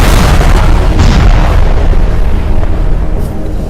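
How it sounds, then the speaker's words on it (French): Explosions in action footage set in Siberia, a continuous heavy booming rumble with several bursts rolling into one another, loud throughout and slowly fading toward the end. "Et les explosions."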